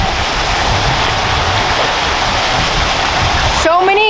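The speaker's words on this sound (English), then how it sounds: "So many great interactive waterfalls and mushrooms and water features to play with." Hotel pool waterfalls and water features rush as a loud, constant splashing roar, with a voice starting up near the end.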